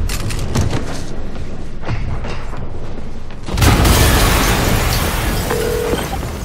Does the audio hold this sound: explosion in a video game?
yes